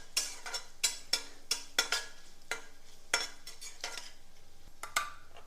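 A spoon clacks rhythmically against a pan while Kashmiri chilli, coriander-cumin powder and garam masala are stirred into a dal tempering, sharp close scrapes and taps over a faint sizzle.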